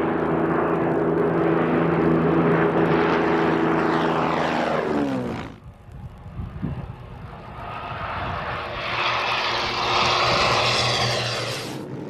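A Supermarine Spitfire Mark IX fighter's piston engine drones loudly overhead, its pitch sliding downward as it passes, then fades into a rumbling lull before another engine roar swells back up.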